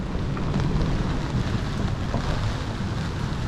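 Steady rain and gusting wind, over 20 knots, batter a sailboat swinging at anchor, a dense, constant hiss with low rumbling buffets and no voices.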